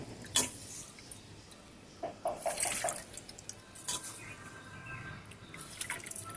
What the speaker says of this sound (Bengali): একটা ছাঁকনি দিয়ে তেলটাকে আমি এই ভালো করে ছেঁকে নেব